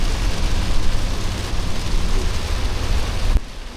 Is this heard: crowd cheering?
no